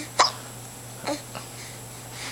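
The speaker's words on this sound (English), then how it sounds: "Do you have the hiccups?" A small child hiccups several times, a sharp loud hic followed by softer, spaced ones over a faint steady hum indoors.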